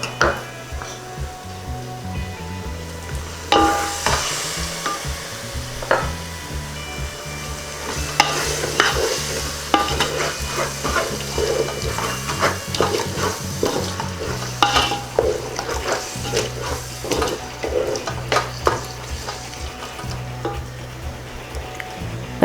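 Beef biryani mixture stirred in a pot, with steady scraping and clattering of a spoon against metal over continuous sizzling, many sharp knocks scattered throughout, loud and close with no talking.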